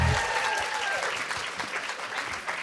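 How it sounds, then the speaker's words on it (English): An audience at a TV festival applauds, a dense burst of clapping that is loud at first and tails off slightly, with a brief whistle early on. "Can we give a massive round of applause for Matthew,"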